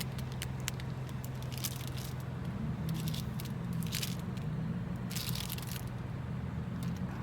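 Someone bites into a piece of Japanese chocolate, making a scattered series of short crisp snaps and chewing crackles over a steady low background hum, close and moderately quiet.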